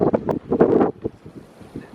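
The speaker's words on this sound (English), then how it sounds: "We had to move because it gets so windy." Wind buffeting a microphone on a beach dune, with rumbling low gusts strongest in the first second and then easing into a steadier, softer rush.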